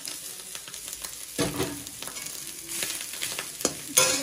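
Kodo millet noodles are stirred as they fry in a pan, with soft sizzling under intermittent scraping strokes from a utensil and a couple of louder clatters near the end, close and moderately quiet.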